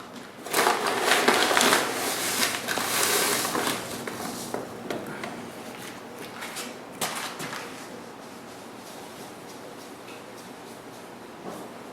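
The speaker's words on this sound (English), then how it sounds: "I'm going to start by just using my scoop and very carefully pouring the sand" Aquarium sand is poured from a scoop over the substrate, giving gritty hissing trickles and soft crunchy rustles, fuller at first and then thinning into quieter, intermittent sifting.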